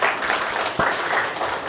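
Audience applause at a conference session, a broad steady wash of clapping that holds at an even level and swells again partway through.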